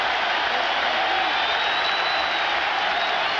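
Large baseball stadium crowd cheering during the 1986 National League Championship Series, Astros vs Mets, with a full-count pitch pending; a steady, dense roar of voices fills the whole stretch at high, even loudness.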